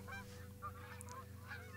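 Geese honk in the hunting game theHunter: Call of the Wild, set in the Hirschfelden reserve, a faint scattered chorus of distant calls over a steady low ambient hum, with no speech.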